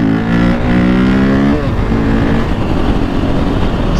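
A supermoto motorcycle revs hard for a wheelie, the engine note climbing loud and close before cutting off sharply, leaving a rough, rumbling roar.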